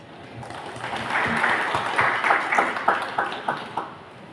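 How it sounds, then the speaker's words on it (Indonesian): Applause from an audience in a hotel hall during an academic graduation ceremony, rising to a moderate crowd of clapping that stays steady for a few seconds, heard from a middle distance. "kita beri aplaus untuk itu"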